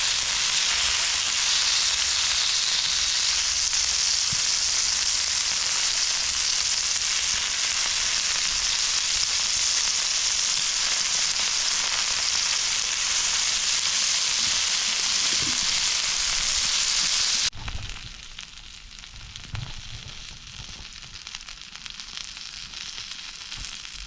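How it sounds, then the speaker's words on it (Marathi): Bombay duck (bombil) fish fry in oil over a wood-fired chulha outdoors by a farm field, a loud, steady sizzle that cuts off abruptly near the end, leaving faint background noise. "आता बऱ्यापैकी आपले मासे बोंबील फ्राय झालेले आहेत"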